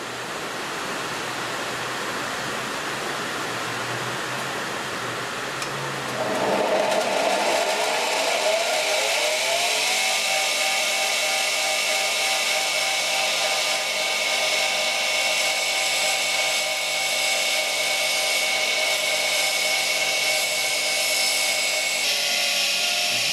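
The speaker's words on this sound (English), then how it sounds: "I'm just going to grind down to the texture mark so that I don't cut through the colour bar" Australian jelly opal is ground down on a wheel toward the colour bar, giving a continuous loud whirring hiss whose pitch shifts as the stone presses in and the motor settles, steady and close throughout.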